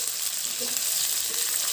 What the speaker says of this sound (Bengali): মা এখানে তেল গরম করে আমরা আমাদের 1 বাটি পেঁয়াজ কুচি দিয়ে দিয়েছি।